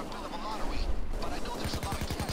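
Gunfire in the video game Payday 2, bursts of in-game shots with a rapid rattling volley toward the end, mixed with other game noise.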